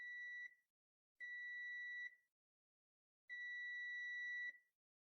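A budget multimeter's continuity tester sounds three steady electronic beep tones, the first two short and the last one longer, each clean and sustained with silence in between.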